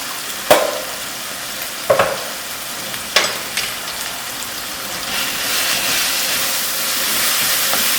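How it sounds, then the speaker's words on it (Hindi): Chicken keema cooking with masala and salt in a pan: three or four sharp spatula knocks and scrapes, then a frying sizzle that swells and holds steady toward the end. "इसको अच्छी तरह भूनेंगे ताकि हमारा मसाला और कीमा इस तरह बन जाए।"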